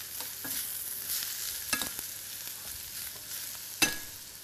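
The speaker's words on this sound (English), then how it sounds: "a little bit of white, a little bit of our red cabbage. And again, give that a quick stir." Shredded white and red cabbage is stirred in a hot pan, a steady soft sizzle with a few scraping knocks of the utensil, close up and with no talking.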